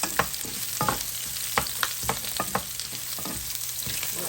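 Onions fry in a little oil for pork adobo, a steady close sizzle broken by repeated scraping and clacking stir strokes at an uneven rhythm, with no talking.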